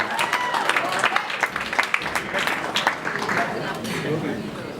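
Audience applause greeting hosts at a fundraising dinner, with scattered, uneven claps and crowd murmur, and a voice speaking over the clapping throughout.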